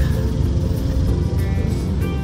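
New York city street traffic near Central Park, a dense continuous rumble of cars and buses passing close by with a faint voice mixed in.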